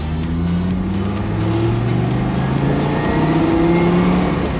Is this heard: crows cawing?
no